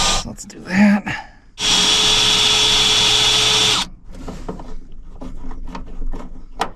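A power drill drives a self-tapping screw into a hole while fitting camping vibe lights in a Suburban, a loud steady whine lasting about two seconds, with brief clatter before and quieter handling noises after.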